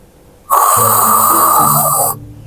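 A person snoring in one loud, close, drawn-out rasping breath that stops abruptly, with no talk.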